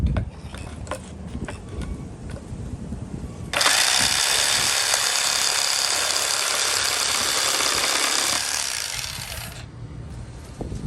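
A restored WEN Model 920 Zipp Saw, used as a jigsaw, cuts a small piece of trim: a loud, steady buzzing rasp that begins abruptly after quiet handling noises, holds for about six seconds, then stops.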